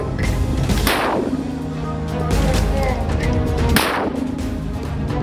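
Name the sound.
mortar fire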